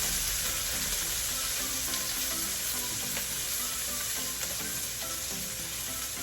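Onions for morcon sautéing in a hot pan after browned garlic, a steady, close, bright sizzle crackling continuously.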